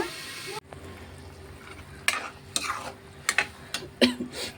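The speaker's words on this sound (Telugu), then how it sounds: "మనం ఉల్లిపాయ పచ్చిమిరపకాయ టమాటా ఇలా కొంచెం ఫ్రై చేసుకుందాం" Onion, green chilli and tomato fry in a pan for a village-style dried fish curry, a low sizzle that cuts out briefly, then returns with several loud scraping and clanking bursts from stirring utensils, close by.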